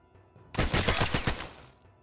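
Controlled bursts of gunfire from the video game Warsaw, a rapid series of sharp, loud shots in close succession lasting about a second before trailing off into quiet.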